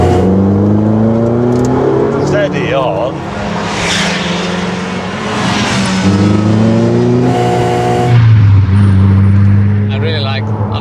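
An old Opel Kadett drives along with a steady, close engine drone that shifts pitch as it changes gear, with people talking inside the car over it.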